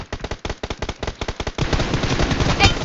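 Rapid automatic gunfire in the mobile battle royale game BGMI, loud bursts of fast shots for the first half, then a dense sustained barrage with a sharp bright crack near the end.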